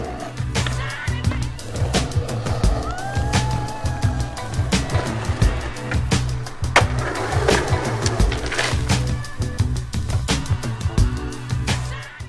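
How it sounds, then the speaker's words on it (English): Skateboards rolling along a street, a steady rumble of hard wheels on pavement with repeated sharp clacks and pops from tricks and landings, close and fairly loud throughout, with faint bird chirps behind. "we also get our feedback the old-fashioned way: skaters in the streets, riding the product"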